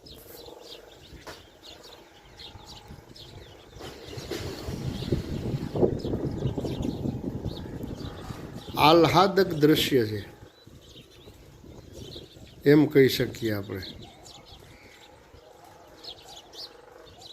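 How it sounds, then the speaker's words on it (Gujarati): Many sparrows chirp around the Charaniai Mataji temple at Modadar, a busy, high twittering in the background, with a pigeon-like coo, largely covered by someone talking nearby. "આટલા ચકલા છે, એનો જ અવાજ તમને સંભળાતો હશે."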